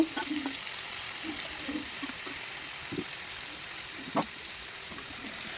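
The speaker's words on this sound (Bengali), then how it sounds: "এবার সুন্দর করে নেড়ে চেড়ে একটু হালকা ভেজে নেব" Winter vegetables are stirred and lightly fried in a pan, giving a faint, even sizzle with a few soft scrapes and taps of the spoon.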